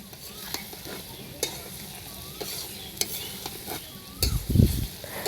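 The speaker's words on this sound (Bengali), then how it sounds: "ভালো করে মশলাগুলো দিয়ে ভালো করে এটা মিক্সড করে নেব।" Spices being stirred into sour-spicy mango pickle: steady wet scraping and stirring with rhythmic spoon strokes, sizzling texture throughout and a heavier thick mixing burst near the end, close and alone.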